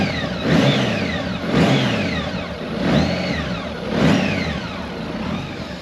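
After an oil change, a Honda Goldwing motorcycle engine revs in four evenly spaced blips that rise and fall over a steady idle, heard close and clear.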